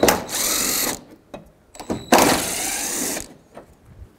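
Power tool removing 10 mm bumper cover bolts on a Toyota Camry near the headlights: two short, loud whirring bursts up close, with brief clicks and rattles between them.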